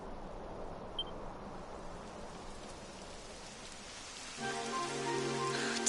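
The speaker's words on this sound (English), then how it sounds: "It would have to go and start raining, wouldn't it?" Rain falling steadily in Dragon Quest XI, a soft even hiss of drops that grows slightly louder near the end as tonal music comes in underneath.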